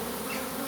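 A swarm of honey bees gives a dense, steady buzzing drone, close and continuous for a brief moment, with no voices.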